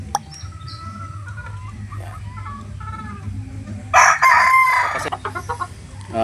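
A broodstag rooster crows loudly and close by in one drawn-out call near the end, with clucking from a farmyard flock and a steady low hum beneath.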